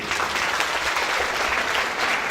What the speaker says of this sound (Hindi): एक बार जोरदार ताली हो जाए प्लीज